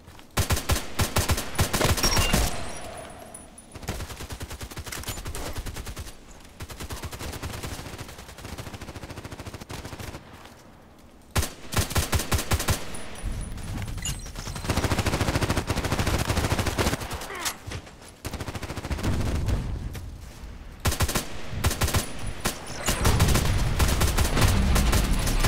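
Rapid rifle gunfire from an HK417 in a shooter video game, bursts of loud shots separated by short pauses across the clip.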